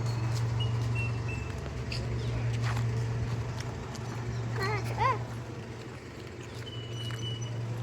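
A horse stands near a Jamaican corner shop, giving soft clip-clop steps amid outdoor ambience and a steady low hum, with brief bird chirps partway through and voices talking nearby.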